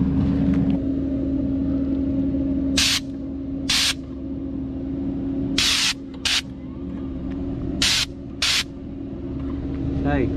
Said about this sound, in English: We're gonna show you how to do second coat applied by the spray gun.